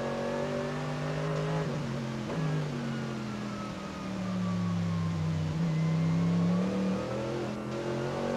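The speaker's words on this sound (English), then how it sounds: "The 8 car going out with Renger van der Zande at the wheel onto the Nordschleife for the final time" The GT8 race car, the only one converted to race specification, driving onto the Nordschleife during a VLN endurance race, its engine loud and near, revving and surging through gear changes over about eight seconds.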